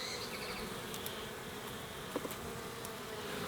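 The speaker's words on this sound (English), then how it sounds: "These bees are actually really calm" A queenless honeybee colony hums with a steady, dense buzz during a hive inspection, close and continuous, with a couple of faint clicks.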